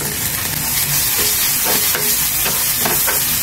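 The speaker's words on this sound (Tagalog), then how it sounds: "I-brown lang po natin ito. Bawang, sibuyas, kamatis" Garlic, onion and tomato sizzling loudly in a pan after ginger has been browned, a dense continuous frying hiss with occasional stirring scrapes, close up and without talk.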